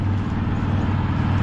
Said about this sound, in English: Two cars from behind,